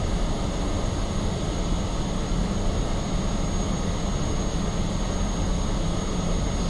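Steady, continuous jet engine roar of a MiG-15 on landing approach in the DCS flight simulator, a dense broadband hum with a thin constant whine held at even loudness throughout, no voices.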